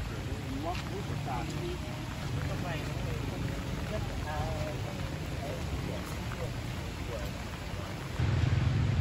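Heavy rain pours down steadily during Typhoon Yagi on a flooded street in Hanoi. The dense, even roar stays constant throughout, and a voice talks over it.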